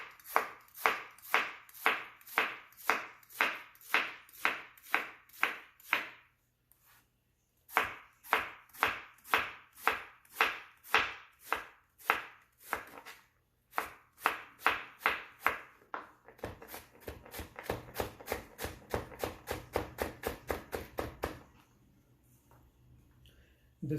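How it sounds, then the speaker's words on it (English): A knife chops an onion thinly on a cutting board in quick, regular bursts of sharp taps, pausing briefly between runs, with a softer scraping stretch near the end. "We'll chop the onion real thin."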